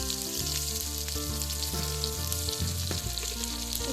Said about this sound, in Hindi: तापरे कढ़ाई रे आउ टिके तेल देके प्याज के रेड ब्राउन होबा तक भाजी देबा